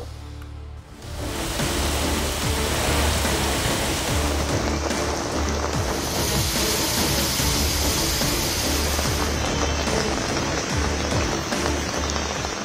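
Heavy monsoon-style rain pours down on Bengaluru streets in a dense, steady hiss, starting abruptly after a brief quiet moment and then roaring on unbroken.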